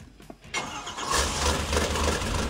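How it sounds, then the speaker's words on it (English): A small-block Chevy V8 fires and settles into a steady, loud idle on an engine stand or dyno, running alone after a brief starter whir. "run the engine to get to operating temp"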